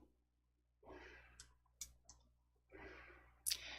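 Computer mouse clicked during word-processor work, a couple of sharp close clicks among soft rustles and breathing, quiet room, no speech.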